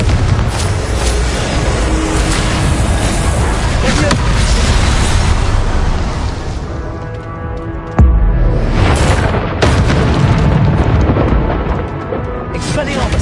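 Spell blasts and explosions in Hogwarts Legacy, including fire and blasting spells: a dense, continuous roar of crackling bursts and booms, loud and close, with a sharp impact midway. A voice speaks over the noise.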